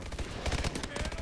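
Rapid bursts of close, loud gunfire in the Advanced Warfare Exo Zombies video game, a quick stuttering string of shots packed into about a second.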